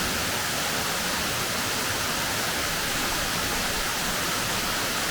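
A river waterfall roars as a dense, constant broadband rush, loud and close, unchanging throughout with no voices.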